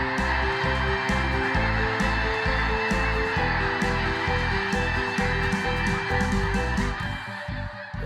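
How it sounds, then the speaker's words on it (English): A flock of geese lifts off a lake, loud overlapping honking calls repeating rapidly and close by for most of the stretch, then thinning slightly toward the end. "Those are geese getting up from that lake"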